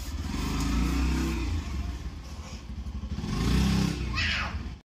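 A motorcycle engine runs close by with a rough, pulsing note that swells and eases as it revs in short bursts, loud throughout and ending abruptly.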